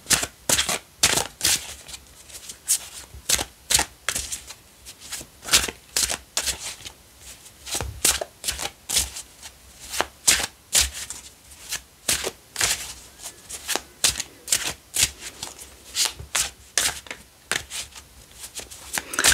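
Tarot cards being shuffled by hand close up, a fast steady rhythm of riffling and slapping bursts repeating throughout, with no talking.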